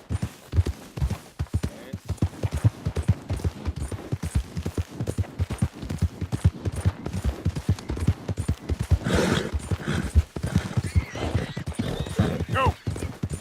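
Horse hooves clip-clopping at a steady gallop in Red Dead Redemption 2, a continuous rhythmic thudding close up for the whole stretch, with soft game ambience and brief snorting or rustle near the end.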